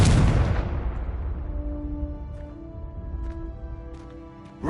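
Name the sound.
Confringo exploding fire spell in Hogwarts Legacy video game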